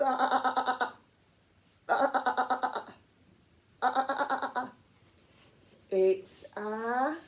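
A human voice imitates a sheep's bleat three times, each a wavering, quavering 'baa' about a second long with pauses between, followed by brief speech.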